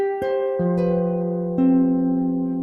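Harp notes ring out plainly with no talking, a lower pair entering partway through on the black and red strings and sustaining beneath the upper tones.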